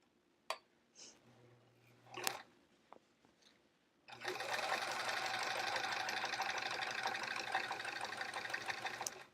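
A sewing machine stitches pencil pockets in one steady run that starts after a few seconds of clicks and small handling noises and carries on loudly to the end.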